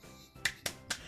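Three quick sharp claps spaced evenly, part of a rhythmic classroom clapping routine led by a teacher for young pupils, close and fairly faint.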